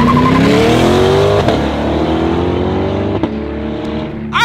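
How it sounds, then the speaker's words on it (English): A 2020 Corvette C8 launches hard under launch control, its engine note roaring loud and close and climbing steadily in pitch through a couple of quick gear changes. "This is the C8 2020 Corvette's launch control."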